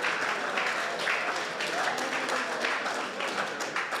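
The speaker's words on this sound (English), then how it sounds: "Everyone want to give him a round of applause?" Team members applauding a colleague's five-year work anniversary at an all-team meeting, a steady crowd clapping lasting about four seconds, with some voices mixed in.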